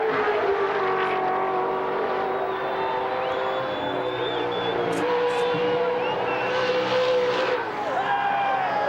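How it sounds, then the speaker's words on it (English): Crowd cheering across a mountain-top circuit in Australia as Dick Johnson guns his big V8 touring car past, a steady loud roar of engine and voices with rising and falling engine tones throughout. "listen to the cheers of the crowd across the top of the mountain as one of Australian motorsport's most popular drivers guns the big V8"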